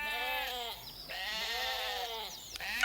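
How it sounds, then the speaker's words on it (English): Sheep bleating in a Mr Men cartoon: several drawn-out, wavering bleats overlap in quick succession, close and clear, with no talking. "Look at those sheep."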